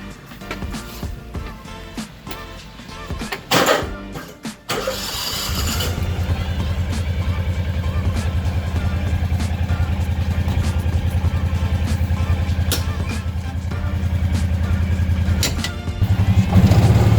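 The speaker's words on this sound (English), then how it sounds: "We're gonna go get the Kubota unloaded" A Kubota utility vehicle in the pits at a drag racing event clatters as it is cranked and then starts, settling into a steady, loud, close engine idle that runs on to the end.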